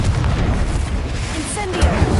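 A Confringo fire-blast spell in Hogwarts Legacy, heard as a sustained booming, rumbling burst with crackling texture and a couple of heavier thumps near the end, loud and close amid continuous combat noise.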